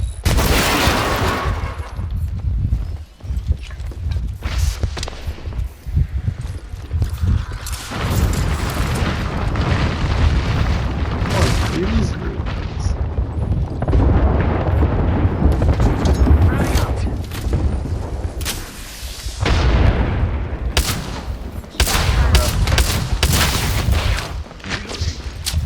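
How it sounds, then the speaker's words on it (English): In Apex Legends, a grenade goes off during a firefight: loud booming blasts and gunfire in a dense, continuous barrage, with players shouting over the noise. "Grenade!"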